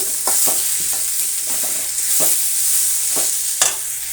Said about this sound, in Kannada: ಒಂದೇ ಒಂದು ಟೊಮೆಟೊ ಹಾಕ್ತಾಯಿದ್ದೀನಿ ಸಣ್ಣದಾಗಿ ಕಟ್ ಮಾಡಿಕೊಂಡಿರುವಂಥದ್ದು ಈಗ ಇದು ಕೂಡ ಫ್ರೈ ಆಗಲಿ